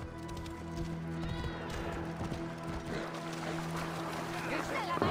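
Rapid, steady hoofbeats of a galloping horse in the video game Assassin's Creed Origins, with a constant tonal hum behind them and German voices occasionally heard over the rhythm.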